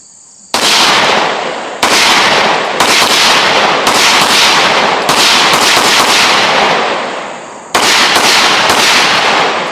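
A Springfield Prodigy DS pistol fires half a magazine, a close, very loud run of about seven shots in an uneven rhythm, each blast ringing out and overlapping the next.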